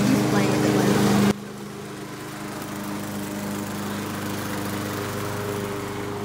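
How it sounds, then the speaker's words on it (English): A lawn mower engine drones steadily close by in a residential yard, with a louder burst at the start that then settles into a continuous hum. "I had to take a break from mowing"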